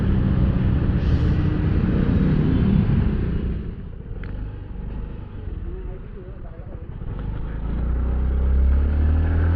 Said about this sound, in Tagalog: sabak tayo ng traffic ngayon